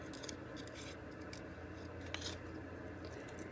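Scissors snip through paper to cut out collage pieces for a homemade mushroom Christmas journal, giving soft close crisp cuts over a steady low background hum, with no talking.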